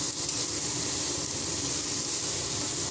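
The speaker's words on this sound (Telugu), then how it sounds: "ఆనియన్స్, కొద్దిగా కరివేపాకు బాగా ఆయిల్లో మగ్గాలండి" Onions and curry leaves frying in oil in a pan, a steady, close hiss and crackle that holds evenly throughout with no talking.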